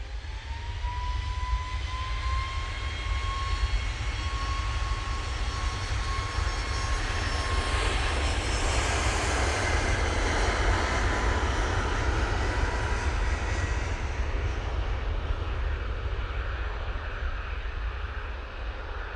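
A Boeing 737 MAX 8 rolls for takeoff at Manchester Airport bound for Berlin, its jet engines rising from a whining spool-up into a loud, sustained roar that swells in the middle and stays strong to the end.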